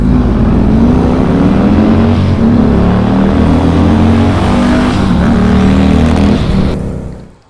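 Two Harley-Davidson motorcycles, one of them turbocharged, race flat out side by side, a loud, sustained engine roar rising in pitch through the gears before dropping away at the end.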